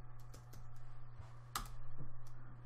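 A few sparse, light clicks of keys on a computer keyboard sound quietly and close up over a steady low electrical hum, with no talking.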